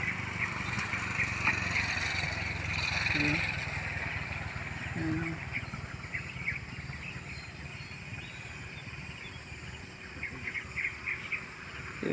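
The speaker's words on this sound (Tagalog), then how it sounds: "At ang naririnig mo lang ng mga huni dito, yung huni ng mga ibon." Birds call and chirp across open farmland in the countryside, with scattered tweets over a constant hum of insects and a low rumble like a distant engine, moderately loud and steady, without anyone talking.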